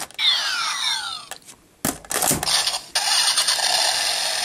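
A Kamen Rider Double Accel Driver toy belt plays its electronic engine-rev sound effects, loud and close, with revving sweeps, a brief gap, then a burst of grinding motor noise and a sustained electronic tone.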